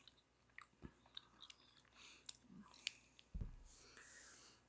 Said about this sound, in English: That took like 10 minutes to chew down.